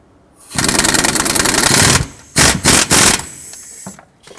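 A rapid mechanical whirring rattle runs for a second and a half, followed by three short bursts, as a crankshaft pulley bolt is driven in up close on a Chevy Express 3500.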